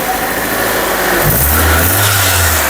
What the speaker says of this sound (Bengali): ইঞ্জিনের সাউন্ডটা দেখেন আপনি কি সুন্দর